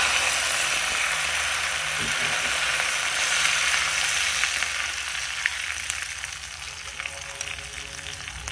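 Hot oil hisses and sizzles as it is poured over boiled, ground garlic and shallots, a close, continuous crackling fry that settles slightly toward the end, with no talking.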